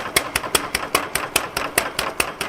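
A foot-controlled power hammer pounds hot steel while forging a Korean hoe (homi), delivering a rapid, even series of about a dozen sharp metallic blows, loud and close.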